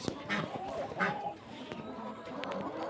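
Hens cluck softly and repeatedly at a moderate distance, with scattered short calls over a low outdoor background.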